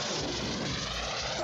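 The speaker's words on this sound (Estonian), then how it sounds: "Jah, see oli lennuki heli." An airplane roars past, a loud, steady broadband engine rush filling the short moment.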